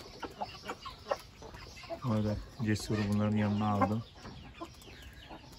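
Chickens cluck and squawk during a snack feeding, with a louder drawn-out call near the middle, close by. A person talks over the flock.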